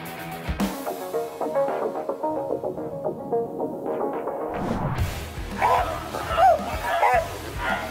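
A Bully Kutta dog barks and yips at a threat in repeated bursts, fairly close, with some whimpering and a voice briefly in the background.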